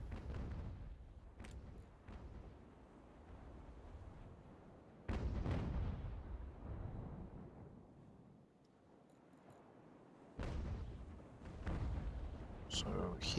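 Ship cannons fire in an American Revolution naval battle game, heavy booming blasts at intervals with rumbling decay, while someone talks over the action.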